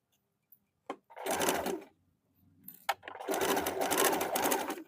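A sewing machine runs a half-inch seam on a gents' short kurta, two loud close bursts of rapid stitching with a brief pause between, preceded by a couple of small clicks.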